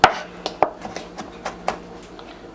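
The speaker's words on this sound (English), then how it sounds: "just put them together and start dicing away" A knife dices vegetables for lasagna on a cutting board, giving a quick series of sharp, close chopping taps in an irregular rhythm, with no talk.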